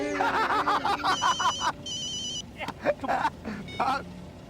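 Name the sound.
telephone ringing for an incoming call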